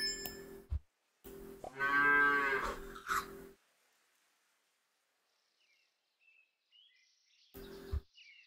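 A cartoonish cow moos in the Super Auto Pets video game, one drawn-out low call after a short sound effect, then near silence with faint chirpy game tones and a final brief thump.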